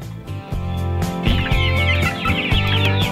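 Two-month-old KUB superior free-range village chickens cluck close by: a flock with repeated overlapping clucks and short calls in a steady, busy rhythm.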